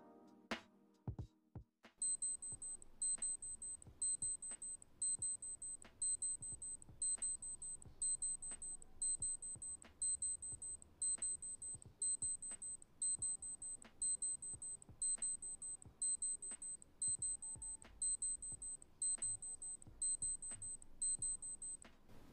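Alba 7T62 analog wristwatch alarm, a thin high-pitched beep pattern repeating in regular bursts about once a second, quiet and close after a few handling clicks.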